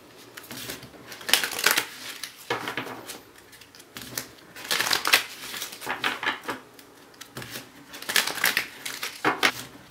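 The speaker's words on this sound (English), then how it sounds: "One more shuffle for you guys." Tarot cards are riffled and shuffled in repeated bursts of crisp, papery flutter, close by and alone, with short pauses between each shuffle.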